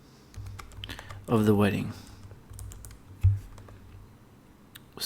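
Typing on a computer keyboard, scattered light key taps coming quickly and softly, close by, with someone speaking briefly in the middle.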